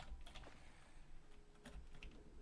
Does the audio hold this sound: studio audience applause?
no